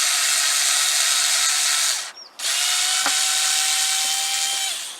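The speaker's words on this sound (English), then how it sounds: "lilies like good drainage, so we're going to make quite a few holes" A power drill bores drainage holes in the bottom of a plant pot for lilies, a loud, close, high whine that runs continuously, stops briefly and then starts again.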